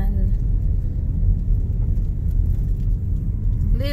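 Inside a car cruising along a tree-lined country road in Arkansas, a steady low road rumble and engine drone fill the cabin, with a voice briefly talking near the end.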